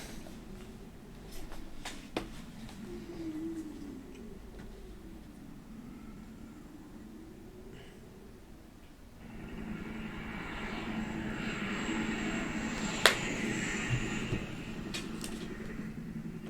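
Helicopter in the video game Resident Evil Survivor, a faint steady rotor and engine drone that swells louder in the second half, with a few sharp clicks over it.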